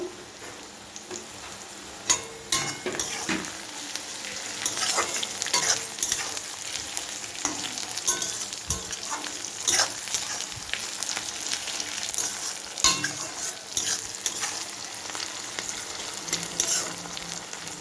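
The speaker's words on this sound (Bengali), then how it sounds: "টমেটোটা একটু ভাজা হোক।" Tomatoes fry with browned onions in a pan while being stirred, a steady close sizzle punctuated by repeated scraping and clicking of the spoon at irregular intervals, with no talking.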